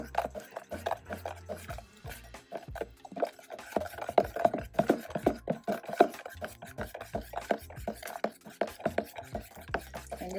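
Carrot and beetroot juice ingredients are mixed in a home kitchen, giving a busy, continuous stream of soft stirring, scraping and light clatter, close and fairly quiet, with no one speaking.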